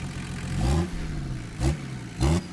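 A 2.4-liter naturally aspirated inline-six D24 diesel engine revs sharply three times in short, loud, close bursts over a steady rough idle.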